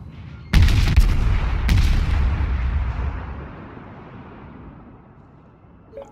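A World of Warships Omaha tier 5 US cruiser fires its guns in two loud booming salvos, the second following about a second after the first, each rumbling and slowly fading into a long decaying tail.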